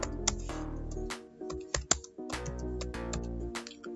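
Keys clack on a computer keyboard as a pin title is typed, in short irregular runs of crisp close taps with brief pauses between words.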